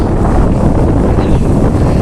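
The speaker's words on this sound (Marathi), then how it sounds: "इथे आल्यानंतर एवढा छान वारा, मस्त वारा आहे." Strong wind at a hilltop church near the sea, roaring continuously as loud, low buffeting gusts against the microphone, with no other sound audible.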